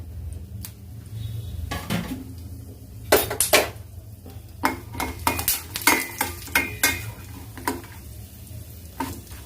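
Cashews, almonds, pumpkin seeds and cucumber seeds roasting in a pan for pumpkin halwa, with a spoon scraping and clinking against the metal in a steady run of sharp strokes over a low background hum.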